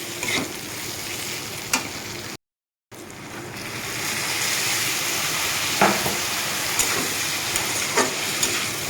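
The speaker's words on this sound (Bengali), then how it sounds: "এখন আমি এটাকে একটু একটু জল দিয়ে আমি একটু কষিয়ে নেব মশলার সাথে" Spices and grated ginger fry in a pan for a vegetarian mung dal kalia, with splashes of water added. The steady close sizzle cuts out briefly, then returns slightly louder, with a few faint scraping clicks.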